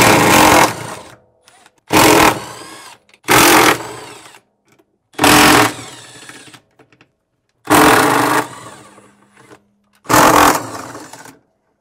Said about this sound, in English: using a 13 millimeter socket, we'll remove the six mounting bolts for the clutch